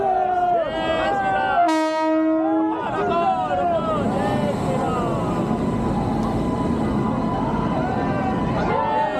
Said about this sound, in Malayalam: ഓ ട്രെയിൻ വന്നുകൊണ്ടിരിക്കുകയാണ് ഗൈസ്.